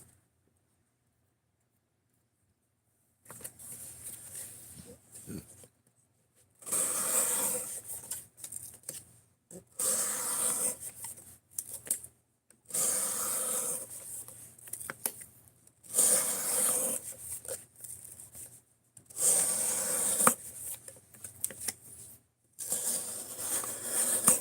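A flat-grind knife cutting through 44-pound test material, heard as a series of faint, rhythmic scraping and rustling strokes separated by short pauses, with no talk.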